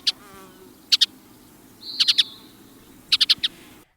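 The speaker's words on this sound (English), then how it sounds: "That's right, the western bluebird" Western bluebird (Sialia mexicana) giving short, clear chirping calls in quick clusters of two to four notes, spaced across a few seconds against a quiet outdoor background hum.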